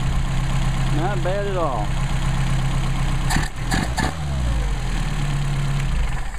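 A Mercedes 190SL engine on Solex carburetors, heat soaked, turns over and settles into a steady low idle after a hot start, with a couple of sharp clicks midway and someone talking briefly over it.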